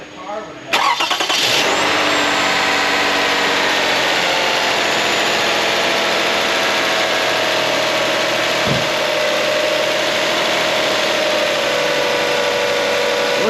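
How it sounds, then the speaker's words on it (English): A car engine after a major service including a timing belt cranks briefly and catches, then settles into a steady, loud idle with a faint whine, as someone speaks over it. "Let's start it right up."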